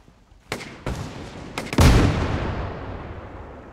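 Gunfire in the World War II shooter Hell Let Loose, on the Foy map: a few sharp rifle shots followed by a heavy, booming blast whose rumble slowly decays over the following seconds.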